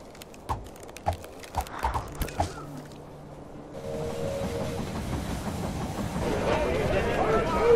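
Train arriving at a station in the strategy game They Are Billions, opening with a few sharp clanks and clicks, then a steady rumble with a hissing release building toward the end, with a short tone partway through.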